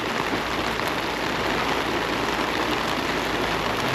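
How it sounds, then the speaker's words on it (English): Heavy rain pouring down hard and continuously, a dense, loud, unbroken hiss that fills the whole stretch with no voices over it. "Why is it raining so hard?"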